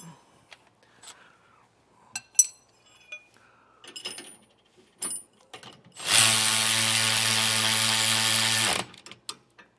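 A ratcheting tool buzzes steadily for about three seconds while nylon lock nuts are tightened on a Roadmaster Comfort Ride leaf spring suspension kit, following scattered light metallic clinks and taps.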